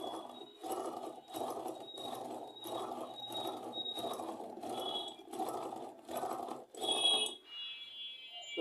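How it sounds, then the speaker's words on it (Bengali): A sewing machine stitching cloth runs in about ten regular bursts of rapid mechanical chatter, close and fairly quiet, then stops and leaves a faint hum. "এখন আমি আপনাদের এটা কিন্তু একটা কাপড়ে সেলাই করে দেখাবো"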